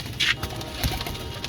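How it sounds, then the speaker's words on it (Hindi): Pigeons, including English breeds, coo softly a couple of times against a noisy outdoor background, with no one speaking. "ये सब अंग्रेज मोरों के कबूतर हैं"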